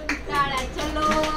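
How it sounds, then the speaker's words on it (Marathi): Brief burst of hand clapping from a small group at a festival-day memory game, quick uneven claps close by with faint voices mixed in. "तनु के लिए तालियां जोरदार"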